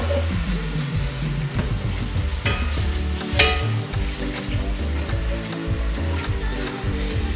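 Oxtail stirred with melted honey and a pinch of roasted garlic in a hot pan, giving a steady, close sizzle with soft stirring scrapes throughout and no talking.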